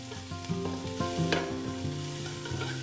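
Nutmeg powder, cinnamon, crushed cardamom, cloves, biryani flower and thinly sliced onions fry for chicken keema biryani, making a continuous close sizzle and occasional stirring scrapes beneath steady background music.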